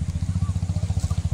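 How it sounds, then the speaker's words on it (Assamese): A Bullet motorbike engine idles nearby with a loud, steady, rapid thumping pulse that repeats evenly throughout. "এতিয়া দেই সেই বাইক বুলেটৰ শব্দ পায়"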